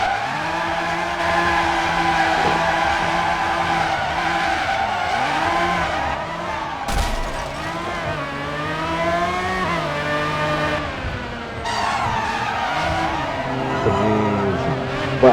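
Lamborghini Murcielago SV chased by police in the driving game Driver San Francisco, engine harmonics rising and falling through gear changes with tire skids and squeals, loud and continuous throughout.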